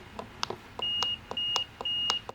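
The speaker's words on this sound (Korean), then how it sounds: "테스트를 하다 보니까 지금 이렇게 찍으면 이 아래쪽 버튼에 지금 삐삐 소리 들리시죠?" A continuity tester beeps while probing the lower button on a BMW G30 turn signal lever, giving a quick run of short, close electronic chirps with a few longer sustained tones among them.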